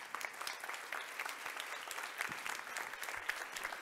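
An audience applauds a guest at a blockchain talk, giving a steady, even burst of clapping from many hands that carries on without a break, heard from a moderate distance.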